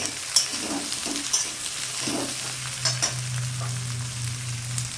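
Ingredients for a parshe fish curry with brinjal and potato fry in a pan and are stirred, a steady close sizzle broken by occasional spatula scrapes, with a low hum beneath.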